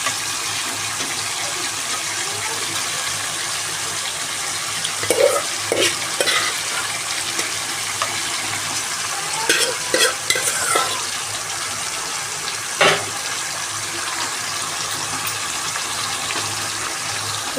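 Chicken biryani is stirred in a pot over a steady bubbling sizzle, with occasional scraping and clanking of the spoon against the pot; no voices are heard.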